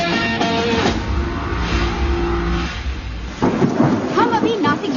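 Deep rolling thunder rumbles over a dense wash of rain, with voices speaking over the storm toward the end.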